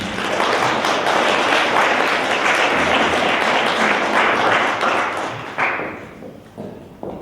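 An audience at the closing ceremony of a winter holiday programme run by a Polish cooperative club gives loud, dense applause that holds steady for several seconds, then thins out into scattered claps and fades.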